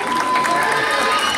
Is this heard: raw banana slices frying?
no